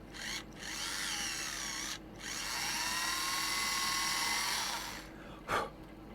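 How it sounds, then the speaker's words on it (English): A small power drill bores out a part of a Revell 1/12300 scale Star Destroyer plastic model kit, whining steadily in two long runs with brief pauses and a sharp click near the end. "we'll drill this one out"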